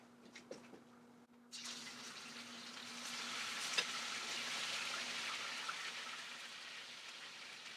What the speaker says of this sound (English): We're going to lay the meat in a single layer in this large, heavy pan, and we'll brown the rest of the meat.